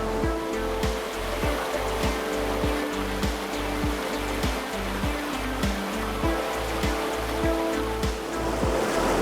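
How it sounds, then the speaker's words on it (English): Water pouring through rough terrain around a beaver dam built from wood and felled trees, a steady loud rushing flow with no talk. "everywhere else there's all this water just pouring through the terrain"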